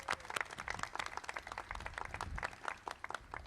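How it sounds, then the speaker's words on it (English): Dense applause from a crowd at an outdoor civic housing announcement in Boston, a steady wash of many hands clapping at moderate distance, continuing evenly without talk. "Give yourselves a round of applause"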